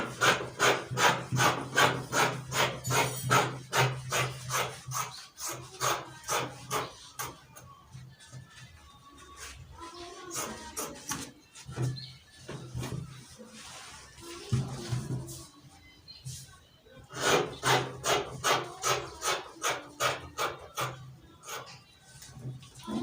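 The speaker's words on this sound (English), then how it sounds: "So I'll just go ahead and trim up the side area." Scissors trim the side of fabric cut for a Danshiki kimono dress, a run of quick, evenly spaced snips that pauses for quieter handling in the middle and then resumes, close and alone.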